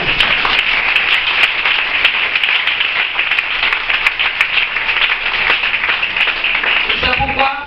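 A church congregation at a Pentecost service applauds and acclaims the Lord, a dense, loud, continuous wave of clapping with voices mixed in that tapers off at the end.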